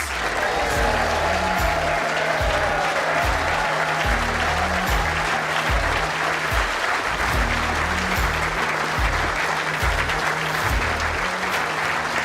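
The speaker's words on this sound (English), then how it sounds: "Keep that applause going, ladies and gents." Sustained, loud applause from the audience fills the hall for the 2025 World Indoor Bowls pairs champions, a dense, even roar of clapping that carries on unbroken for the whole stretch, with no voices over it.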